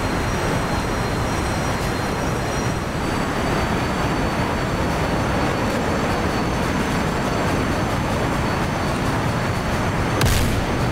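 Jet engines roar continuously and loudly in a combat flight game as a stealth aircraft flies barrel rolls with throttle changes, a dense steady rumble with a brief burst near the end.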